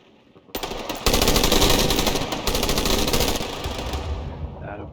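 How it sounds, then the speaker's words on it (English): Sustained machine gun fire in a video game, loud and dense from start to finish: a short burst of shots, then heavy continuous rattling that holds steady and tapers slightly near the end. "And we get the machine gun again."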